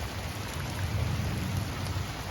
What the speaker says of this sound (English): It's raining now. Storm's not crazy. Wind kind of quit blowing. A little bit of thunder.